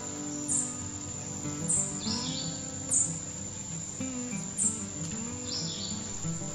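Honeycreepers in Panama give high, thin chirping calls in short repeated bursts about once a second over a steady background hum, fairly close and with no voices.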